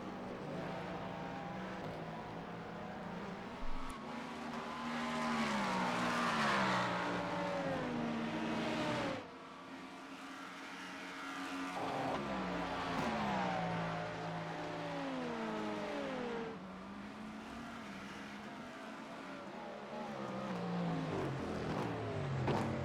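Race cars, including a BMW and a Cadillac, roar through a European Sprint Car Challenge racing video game, engine pitch climbing and dropping repeatedly through gear shifts in a continuous drone.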